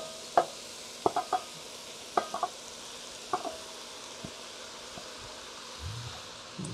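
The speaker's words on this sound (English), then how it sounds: "Stir it around." A spoon knocks and scrapes through Spanish rice in a hot pan, a few sharp clicks in quick clusters over a faint low sizzle, close by, then fading to quiet.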